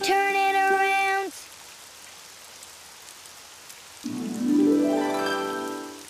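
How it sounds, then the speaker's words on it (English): Steady rain hisses softly in the background throughout, framed at the start and end by tonal musical or sung passages. "Oh, it's raining outside."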